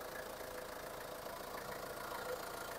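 A Ford Everest 2.5 turbo diesel engine idles with a steady, faint, even rumble and a light clattering texture, unchanging throughout and with no voices.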